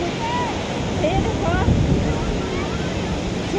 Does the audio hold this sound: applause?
no